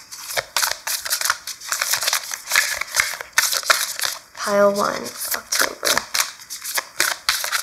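Tarot cards pulled and shuffled, rapid papery riffling and flicking in a continuous close rhythm, with someone speaking softly over part of it.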